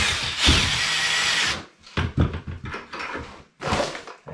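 A drill mixer whirs in bursts while mixing Durabond drywall compound with water, a long loud run followed by short stop-start pulses and another run near the end.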